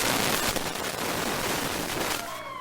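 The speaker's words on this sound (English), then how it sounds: "so this is live audience noise" Live studio audience applauding and cheering as guests return to the stage at a talk show taping, a dense, loud wash of clapping that fills the scene before thinning near the end.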